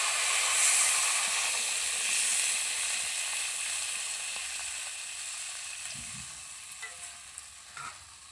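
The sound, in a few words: mustard paste water added to frying mango, sizzling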